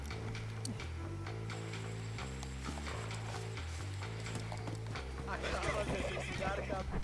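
A horse in the Red Dead Redemption video game neighs and its hooves clip-clop in a steady rhythm beneath a low, droning game soundtrack, with a louder whinny toward the end.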